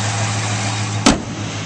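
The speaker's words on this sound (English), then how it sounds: "This Challenger sounds great and it runs very smooth" A 2010 Dodge Challenger engine running at a smooth, steady idle, a close and even hum broken by one brief sharp click partway through.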